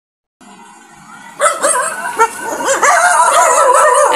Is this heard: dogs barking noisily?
yes